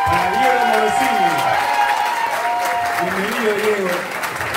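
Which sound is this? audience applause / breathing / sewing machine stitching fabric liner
audience applause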